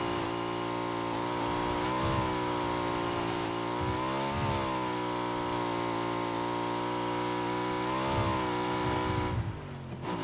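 A motorbike engine in PUBG drones steadily and loudly for about nine seconds, with harmonic pitch rising and falling as the throttle revs and eases, then cutting off near the end.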